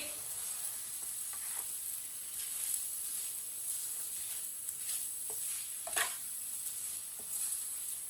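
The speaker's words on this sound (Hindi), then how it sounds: "ऐसे ही चम्मच चलाते हुए इसे अच्छी तरह मिक्स कर लेना चीनी को।" Sugar being stirred with a spoon for raw mango murabba, a soft steady sizzle with scattered scraping strokes of the spoon at close range, no talk.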